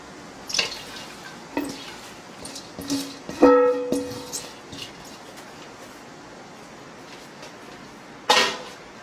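Onion and chives being tossed into cucumber kimchi in a bowl, giving soft wet squelches, scattered drips and a few light clinks against the bowl, with a sharper clatter near the end.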